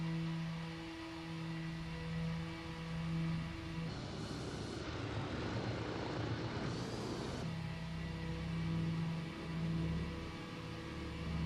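A Breitling Douglas DC-3 propeller airplane taxis with a steady, droning engine hum throughout, swelling into a louder, rougher burst of power for several seconds mid-way before settling back to the even idle.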